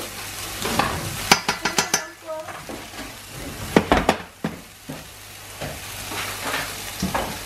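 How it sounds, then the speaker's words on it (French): Rice being stirred and fried in a pan with minced beef, a soft steady sizzle broken by clusters of sharp spoon scrapes and clinks against the pan, close and fairly quiet. "Dans la poêle, on va ajouter le riz."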